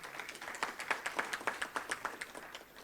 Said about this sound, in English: let's just give her a round of applause, please